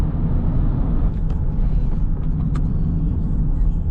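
Road traffic near Anaheim with buses and a delivery truck passing, a loud continuous low rumble of engines and tires heard from inside a car, with a few faint brief clicks.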